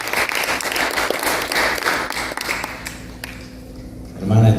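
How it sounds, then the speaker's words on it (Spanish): Church congregation applauding, a thick burst of clapping that thins out and fades toward the end before a low rumble enters. "Y un aplauso también."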